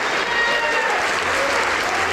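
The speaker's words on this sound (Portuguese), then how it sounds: "Vamos aplaudir ao Senhor Jesus por cada vida que está chegando." A church congregation applauds during a worship service, a continuous wash of many hands clapping at a moderate distance, sustained and even throughout.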